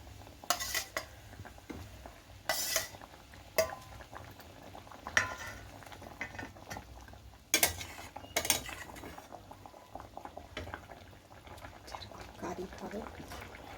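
Fish pieces dropped into bubbling curry gravy for doi katla, with clattering of utensils against the pot and a steady boil underneath, several sharp knocks standing out while a voice talks intermittently nearby.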